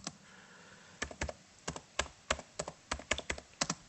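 Fingers type on a computer keyboard, a quick irregular run of crisp close key clicks in small bursts after a brief quiet start, with no talking.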